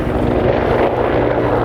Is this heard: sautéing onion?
no